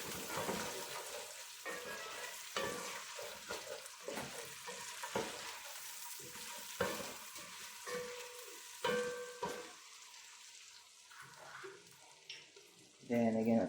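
Garlic and onion sauté in a hot pan for a lamb stew, crackling under repeated scraping strokes of a spoon, close and loud at the start and then thinning as the stirring slows.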